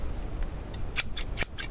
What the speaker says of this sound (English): These are brand new scissors and they're not worth a flip